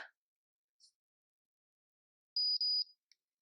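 A short high electronic beep pattern from a Wavytalk Power Wave hair waver, a quick double-pulsed tone near the end after a brief faint chirp, otherwise quiet.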